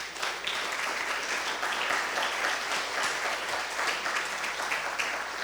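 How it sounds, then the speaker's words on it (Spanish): A church congregation breaks into sustained applause during a worship service, a dense wash of many hands clapping continuously at moderate distance for several seconds. "¿Por qué no le da un fuerte aplauso al Rey de Reyes?"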